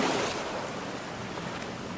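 Ocean waves wash over land crabs on a shore, a continuous close surf roar of broadband hiss and churn with no pauses.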